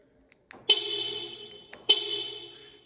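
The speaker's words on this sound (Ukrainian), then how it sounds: "Двічі нажимаємо на замок, замикаємо автомобіль." A Nissan Rogue Sport locks from its key fob with two sharp pings about a second apart, each followed by a short ringing decay, close by and otherwise quiet.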